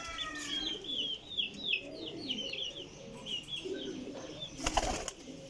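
A young Sialkoti pigeon coos softly among a group of birds, with faint chirping calls in short repeated bursts at moderate distance and no talking.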